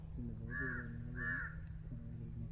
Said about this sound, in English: Oh, now the crows are interested.